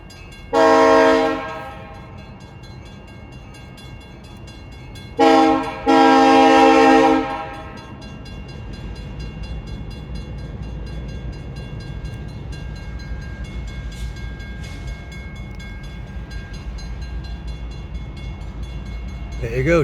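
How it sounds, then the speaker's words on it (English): A short Norfolk Southern freight train of grain hoppers, a tanker car and a high-sided gondola passes a railroad crossing in Reading, PA, sounding two loud, close horn blasts, then a steady rolling rumble of cars. "There you go, 2 grain hoppers, a fuel car, tanker car, I should say, and a trash-filled high-sided gondola."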